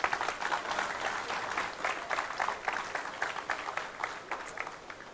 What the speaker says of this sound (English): die 606, kriegt ihren Applaus und ihr müsst sehr laut applaudieren